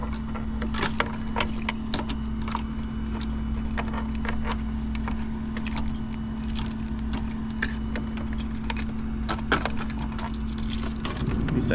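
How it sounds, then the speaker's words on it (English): A bunch of keys jangles and clinks in irregular bursts beside an idling engine at a trailer, the metallic rattles close and bright over a steady low hum. "go through my bunch of keys here"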